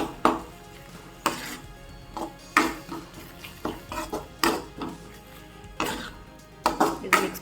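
A utensil stirs cracked eggs into masala in a pan for egg rice, with repeated sharp scraping clinks against the metal at an uneven rhythm, close up over a faint background hum.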